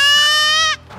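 A young buckling goat lets out one loud, close, drawn-out bleat that cuts off abruptly, with no other sound around it.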